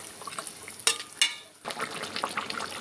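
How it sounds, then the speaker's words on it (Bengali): Fried puti fish is stirred into a simmering curry in a pan, with soft bubbling, two sharp utensil clinks and scraping. "দিয়ে ভালো করে মাছগুলো ঝোলের সঙ্গে মিশিয়ে নিচ্ছি"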